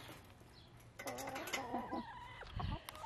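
Chickens cluck and squawk close by in a short burst, one bird louder toward the end, with faint background noise throughout.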